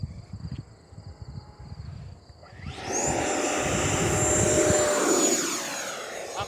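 A Horizon Hobby Viper 90mm RC jet taking off: a low idle rumble gives way to a loud, close whine that surges up sharply and holds steady as it speeds away, easing off slightly at the end.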